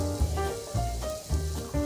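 Carrots and pumpkin sautéing in a pan with garlic for pumpkin soup give off a steady close sizzle, with louder low bursts in a loose rhythm as the vegetables are stirred.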